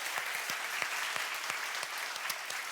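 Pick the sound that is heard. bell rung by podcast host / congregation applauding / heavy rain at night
congregation applauding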